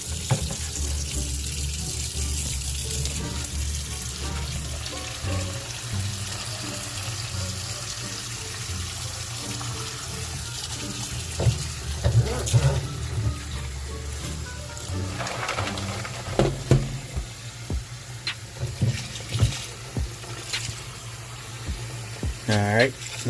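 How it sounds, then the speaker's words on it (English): Cold tap water pours steadily into a bowl of shrimp in a home kitchen, a continuous splashing stream with a low hum beneath it and occasional clinks and bumps later on. "we're gonna run the cold water."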